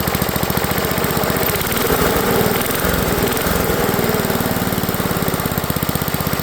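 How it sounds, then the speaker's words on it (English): Briggs & Stratton small engine running steadily close by, a loud, even rapid putter with a slight swell in the middle and no talking. "Boy, this is a nice little running engine."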